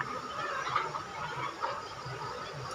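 A flock of chickens clucks continuously at feeding time, a busy overlapping chorus of clucks and squawks at moderate distance with no talk.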